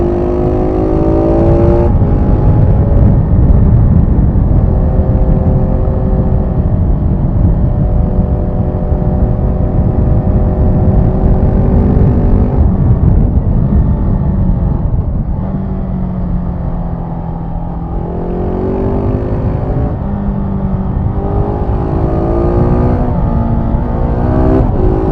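A 2022 KTM 690 Enduro R motorcycle engine riding at close range, loud and continuous, its tone rising through the gears and dipping briefly before climbing again.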